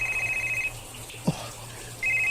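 A cellphone rings with an incoming call in a Filipino drama scene: a steady electronic ring tone repeats in bursts, pauses, then resumes, with a small thud in the gap.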